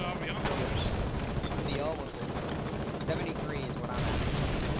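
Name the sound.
mortar tank firing shells in the video game Foxhole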